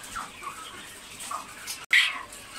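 Broiler chickens clucking softly near a scale during weighing, faint scattered clucks and rustling with a brief louder squawk near the end.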